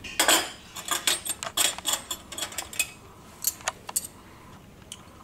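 Tip of a paring knife picking seeds out of a halved grapefruit on a plate, a series of sharp, irregular metallic clicks and scrapes against the dish, close up with quiet pauses between them.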